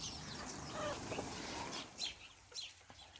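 Chickens cluck softly in the distance in a summer garden, with faint scattered calls over quiet outdoor background noise.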